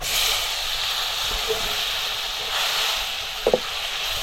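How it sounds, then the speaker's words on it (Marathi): Tomatoes sauté in hot oil for a spicy village-style potato curry, a steady close hiss and sizzle with a couple of brief knocks of a spoon near the end. "टोमॅटो जरा हे तेलात चांगलं परतवून घ्यायचंय"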